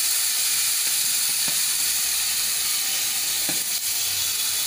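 A paste of green chili, coriander and mint sautés in a pan for green biryani. It gives a constant, close sizzling hiss with a few faint clicks from stirring.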